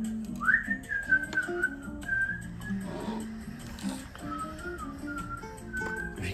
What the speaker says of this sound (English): you can tell the boys whistling something out of Top Gun movie